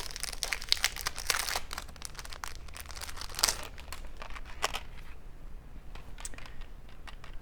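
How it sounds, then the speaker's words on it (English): Plastic packaging crinkles and crackles near at hand as small progress keepers are unwrapped, irregular bursts of rustling that fade toward the end, no talk. "take them out of the plastic so you can see them"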